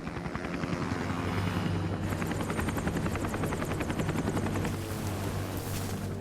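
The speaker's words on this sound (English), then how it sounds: "Hey, look, it's the space helicopter." Video game helicopter in Metal Gear Solid: Peace Walker, its rotor beating in a loud, steady throbbing drone that thickens partway through and continues without talk.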